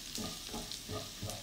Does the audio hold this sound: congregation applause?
no